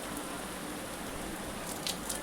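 Light, steady rain drips from roof eaves nearby, a soft continuous hiss with a few sharper drops toward the end.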